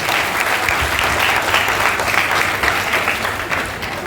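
Loud, sustained applause from a large audience at a national management meet, a dense steady wash of clapping holding for about four seconds with only slight swells.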